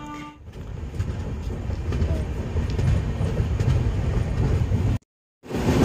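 The 12821 Dhauli Express runs into Sakshigopal station with a loud, continuous rolling rumble and wheel clatter heard from on board, then cuts off abruptly near the end.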